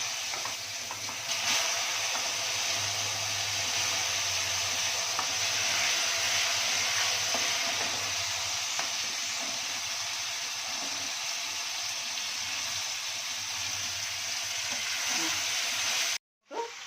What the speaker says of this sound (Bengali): এবারে আমি ফুলগুলো একটু একটু করে দিয়ে দিচ্ছি কড়াইতে